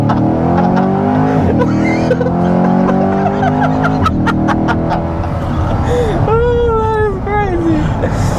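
A Chevrolet Corvette launches hard and revs up, its engine note climbing loud and close through repeated gear pulls, with excited voices talking over the roar.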